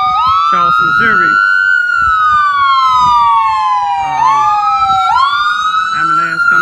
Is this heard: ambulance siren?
yes